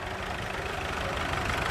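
A Major diesel tractor at a tractor rally idles steadily, a dense, even engine rumble that holds throughout without any voices.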